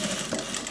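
A sewing machine runs a brief burst of stitching on a sling bag, its needle clattering in a fast, even rhythm, close and alone.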